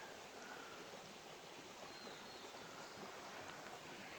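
Water rushing down a stream in a forested ravine off a lake in Algonquin Park, a steady broad far-off wash of flow with no voices.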